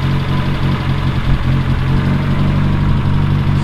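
A 1969 Reliant Regal engine running steadily at idle, a loud, close, continuous rumbling drone with a slightly uneven low throb and no pauses or voices.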